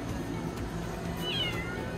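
A cat at a farm meows once, a short rising-and-falling cry against a busy, murmuring background.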